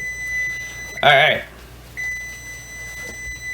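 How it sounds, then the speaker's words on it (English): During banana bread baking, a kitchen timer lets out a short burst of loud, high electronic beeps, followed by a steady faint whine in the kitchen. A person says a word quietly near the end. "Well, that's our timer."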